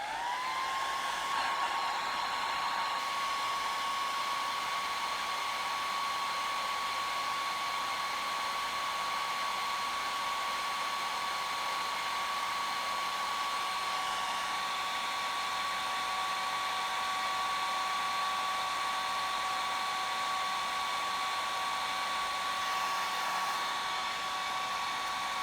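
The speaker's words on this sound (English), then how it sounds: "I'm going to blow dry it quickly." A hair dryer runs steadily and loudly for the whole stretch, blowing over a watercolour landscape painting to dry it, with a constant whine and no talking.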